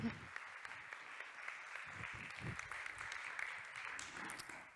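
Audience applause at a Changemakers talk event: steady, dense clapping from a crowd, moderately distant, running continuously for the whole stretch with small swells.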